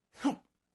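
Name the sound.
half-suppressed sneeze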